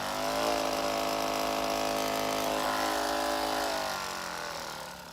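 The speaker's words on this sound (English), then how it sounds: "Power button here has 3 speeds on the Hypervolt." A Hyperice Hypervolt massage gun, gone louder and a little rattly with use, running at top speed with a dense, steady buzzing hum and rattle, close and continuous before tapering slightly at the end.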